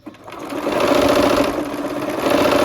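A sewing machine runs steadily, stitching down a quilt triangle with a rapid, even mechanical whir that builds quickly and holds close and alone.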